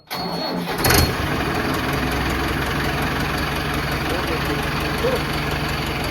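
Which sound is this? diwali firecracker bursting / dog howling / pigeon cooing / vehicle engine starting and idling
vehicle engine starting and idling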